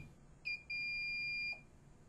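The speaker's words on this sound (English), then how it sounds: "accompanied by rapid beeping" A RIDGID SeeSnake LCDPak inspection camera monitor gives a low-battery warning: one short beep, then a long steady high-pitched tone, clear and alone against quiet background hiss.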